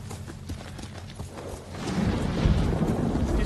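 Horse hooves pound in a rapid galloping rhythm in Ghost of Tsushima, steady at first and then growing louder and heavier with rumbling, alone with no talk.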